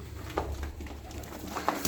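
Tumbler pigeons coo softly from a loft, a few faint low calls with light wing and foot patter over a quiet background.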